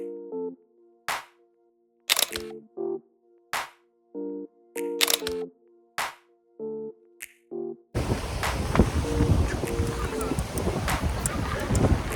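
Strong wind buffets the microphone on the coast at Yehliu Geopark, a loud rumbling roar that takes over for the last few seconds after a stretch of tonal beeps and clicks.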